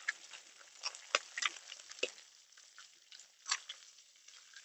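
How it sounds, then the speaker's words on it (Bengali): An egg fries in a pan with a faint, steady sizzle broken by soft, scattered crackles and pops. "দিয়ে সবকিছু খুব ভালোভাবে আবারও ভেজে নেব"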